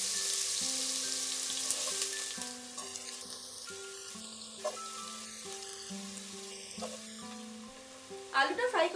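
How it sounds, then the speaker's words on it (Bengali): Pieces of potato fry in oil with a steady, fairly loud hiss, with scattered bright crackles and a brief stronger burst of spattering near the end. A sustained tonal background plays throughout. "আলুগুলোকে আমরা ফ্রাই করে নেব।"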